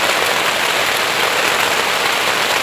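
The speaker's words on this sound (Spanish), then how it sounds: "Escuchen cómo está lloviendo" Heavy rain pours down at a camping eco lodge in a dense, steady hiss, loud and close, with no voices or breaks.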